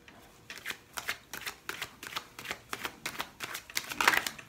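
Tarot cards being shuffled and drawn, a steady rhythm of about ten crisp, close riffling bursts in quick succession, with no talk.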